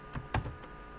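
A few quick, close keystrokes on a computer keyboard while entering a value in Tally accounting software, a short cluster of light clicks in a quiet room.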